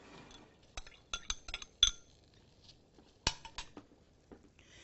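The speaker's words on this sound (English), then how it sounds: "And so if you would like to stir that, Jade." A spoon knocks and scrapes against a saucepan of softening onions, giving scattered light clinks and taps in irregular bursts, with quiet stretches between them.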